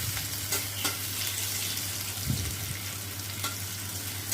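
Chopped green chillies and onions frying in a pan, a constant close sizzle with light scraping strokes of a spatula stirring through them.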